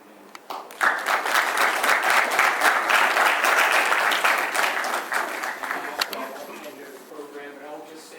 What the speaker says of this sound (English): could you join me in applauding them?